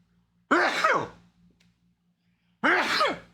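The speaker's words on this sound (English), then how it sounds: "I was holding in those sneezes" Two loud, abrupt sneezes from someone commentating on an online chess tournament, each a sharp burst that trails off, separated by about two seconds of near silence.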